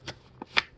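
Paper being folded and creased for an origami boomerang plane, three short crisp rustles and crinkles close by, separated by brief quiet gaps.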